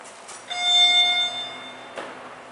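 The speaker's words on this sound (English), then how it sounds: "hate the sound of those chimes" A modded Dover Impulse hydraulic elevator in a parking garage sounds its chime, a single bright electronic tone that rings for about a second and fades, with faint clunks before and after.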